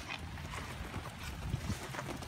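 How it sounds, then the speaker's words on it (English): Steady, faint wind rushing outdoors, a broad continuous hiss with slight gusts and no voices. "It's a little bit windy too."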